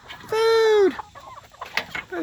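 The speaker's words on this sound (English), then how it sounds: "You hear that? We think this is a girl duck." A female duck gives a loud, drawn-out nasal call among a flock of chickens at a rural property, followed by scattered softer clucks and squawks from the birds nearby.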